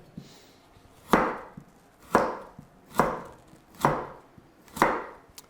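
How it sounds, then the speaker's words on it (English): A knife chops down through a carrot on a cutting board while julienning it for a Thai rice salad: five crisp, evenly spaced thuds about a second apart, close and clear, with no talking. "The carrot, we're just going to julienne."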